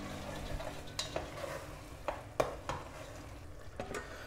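Risotto cooking in a pan on a stove: a quiet bubbling simmer with soft sizzling, broken by a few sharp clinks and scrapes of a spoon against the pan, close and faint.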